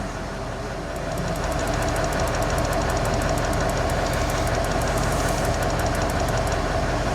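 Range Rover L405 running after a ZF8HP transmission service, held on the brake while in gear: a steady, close engine drone with a quick, even ticking above it.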